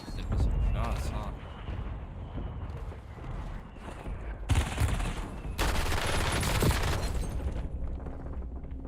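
Rapid gunfire and explosive blasts from the Warzone video game, with dense bursts of shots running throughout and sharp bright volleys in the second half.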